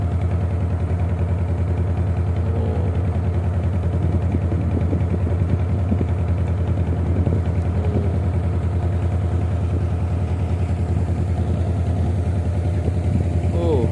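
A jukung river boat motor runs steadily at night on a river near the Ampera Bridge, a constant low engine drone throughout, while people talk faintly over it.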